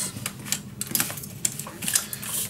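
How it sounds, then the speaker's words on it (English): Paper being cut around the base of a handmade mini album page to open a see-through window: a run of sharp, close snipping clicks in an uneven rhythm, with no talking. "So what I'm gonna do is I am gonna cut around."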